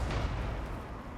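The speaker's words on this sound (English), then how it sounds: "that was a nasty cannon shot into those skelly horsemen" A cannon shot in a Warhammer 3 battle between Dwarfs and Tomb Kings, heard as a loud, dense low rumble with booming impact that fills the short moment.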